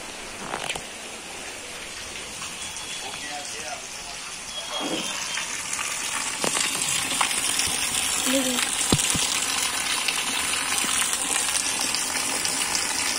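Heavy rain falls on a village, a steady broadband wash of water that swells louder partway through and holds there, with a few scattered knocks and faint background sounds mixed in.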